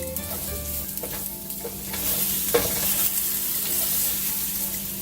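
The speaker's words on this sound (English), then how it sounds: "you want that rice to just toast in there and get all that oil" Short grain rice toasts in oil in a paella pan with a steady, close sizzle and frying hiss, plus occasional stirring scrapes, and no voices over it.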